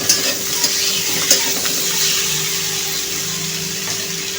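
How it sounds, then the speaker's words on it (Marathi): Potato bhaji with chopped coriander sautéing in a pan, a steady soft sizzle with occasional stirring scrapes, close and continuous with no talking. "फक्त 2 मिनिटं परतायचे आपल्याला।"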